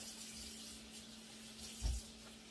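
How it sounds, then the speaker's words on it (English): Water running from a kitchen tap while hands are rinsed, a soft steady hiss with a brief louder splash near the end, heard without talk. "Let me go rinse my hands off."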